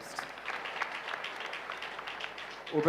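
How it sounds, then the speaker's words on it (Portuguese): A church congregation applauds in praise, a steady patter of moderate clapping from many hands running throughout, with a louder swell right at the end. "Vamos aplaudir a Jesus Cristo."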